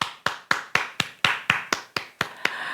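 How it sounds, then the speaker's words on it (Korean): Slow, evenly spaced hand claps, about eleven sharp claps in under three seconds in a church congregation during a Korean Wednesday worship service, each ringing briefly in the room. "우리 하나님께 감사의 박수 드리겠습니다"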